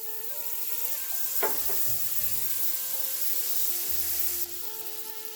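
Butter sizzling in a pan with toasted pecans, a steady close hiss and crackle with a brief clatter of nuts early on, then the sizzle drops slightly toward the end.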